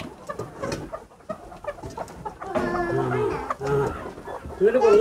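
Egg-laying hens clucking in a poultry shed, several birds calling close by in uneven bursts that grow louder toward the end, with a voice talking between them.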